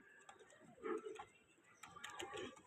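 Pigeons, a breeding pair kept at home, coo softly in low, murmuring bursts over faint background noise.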